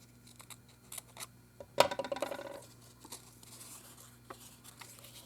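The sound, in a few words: cutting the back side of a craft journal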